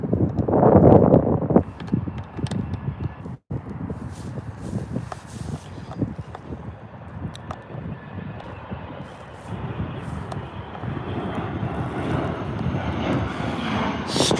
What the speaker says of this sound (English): We've got a tiny little jet heading out